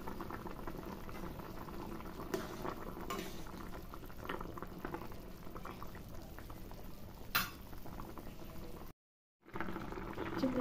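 Okra and potato curry in a thin gravy bubbling steadily in a pot on the stove, a soft continuous simmer with occasional faint clinks.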